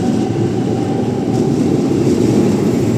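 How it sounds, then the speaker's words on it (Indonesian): A steady, loud rumble of a Jakarta KRL commuter train in motion, with a constant low roar and rattling that stays even throughout. "keretanya udah jalan"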